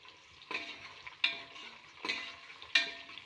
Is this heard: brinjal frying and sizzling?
yes